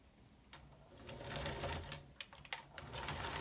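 Home sewing machine stitching bias tape onto a cloth face mask, a quiet steady whirring hum with soft rhythmic needle ticks and a few brief stops near the end.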